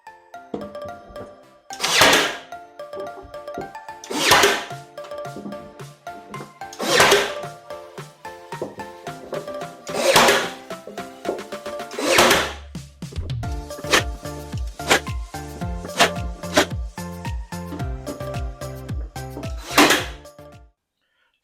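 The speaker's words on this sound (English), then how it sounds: "we're just basically putting brad nails straight into the supports" Brad nailer firing nails into closet shelf supports, sharp loud individual bangs spaced a couple of seconds apart, about eight shots with softer handling knocks and clatter between them.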